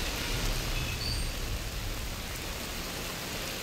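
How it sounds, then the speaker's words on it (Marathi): Steady, dense hiss of heavy monsoon rain pouring down in Mumbai, constant and enveloping with no pauses or voices. "मुंबईत पहाटेपासूनच मुसळधार पाऊस सुरू आहे"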